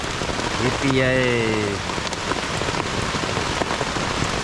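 Heavy thunderstorm rain pounds steadily on a tent in a dense, close patter. A voice gives a brief sing-song exclamation early on over the downpour.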